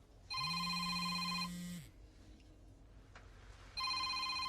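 A mobile phone ringtone plays loud and close in a repeating electronic tone pattern, stopping after about a second and a half, then starting again near the end.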